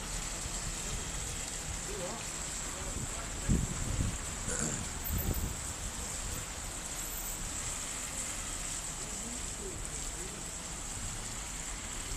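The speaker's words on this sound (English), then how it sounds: "is it ever going to stop raining?" Steady rain falls outdoors as a constant close hiss. A few brief thuds and rustles stand out midway through the downpour.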